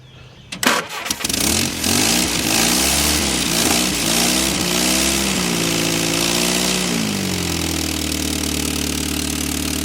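A Willys Jeep engine cranks with a brief grinding, catches and revs unevenly, then settles into a rough, wavering idle that gradually steadies, close and loud throughout.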